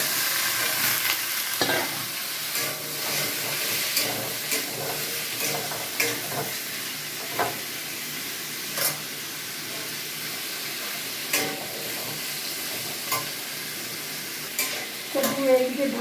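Onion and potato frying in hot oil, a constant close sizzle broken by repeated scraping stirs and clacks of a utensil against the pan.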